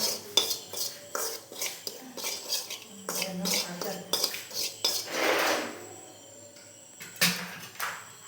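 Ground cumin being roasted in a pan while someone stirs it, giving repeated metallic scrapes and clatter of a utensil against the pan, with a brief steady sizzle partway through.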